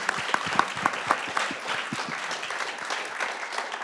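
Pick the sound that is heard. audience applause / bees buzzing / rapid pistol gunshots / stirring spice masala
audience applause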